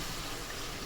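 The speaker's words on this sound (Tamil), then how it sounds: "200 கிராம் தண்ணி ஊற்றுங்க." About 200 grams of water pours into a pot of sambar as a brief, steady, close rush of splashing liquid.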